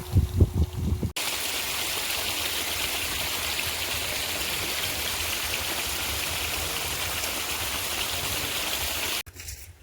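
Pond water pumped out and running through a bamboo grove, a steady close rushing gush that starts abruptly, flows evenly for several seconds and cuts off near the end.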